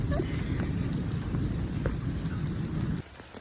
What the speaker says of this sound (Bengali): আজকে কেউ নেই, বৃষ্টি হচ্ছে ওই জন্য চলে এসছো বলাতে